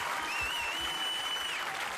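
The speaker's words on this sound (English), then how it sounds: "give yourself a round of applause for this one, Sammy" A round of applause fills the clip: steady, continuous clapping from an audience, even in level and moderately distant, with no clear voices over it.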